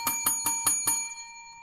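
A hand bell rung during a charity telethon for a donation gives five quick, evenly spaced bright metallic strikes, then a clear ringing tone that fades away, close and alone with no voices.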